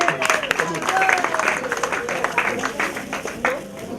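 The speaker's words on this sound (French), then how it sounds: "Ok, on applaudit pour elle." Children and adults at a Gabon orphanage thanksgiving gathering clap for a girl after a Bible quiz answer, a lively mixed crowd applause with scattered sharp claps and cheering voices, fairly close.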